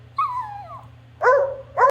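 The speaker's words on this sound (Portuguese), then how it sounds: "Deixa eu botar aqui cachorro." A stock dog sound effect: a drawn-out whining yelp followed by two short barks, close and clear with no talking.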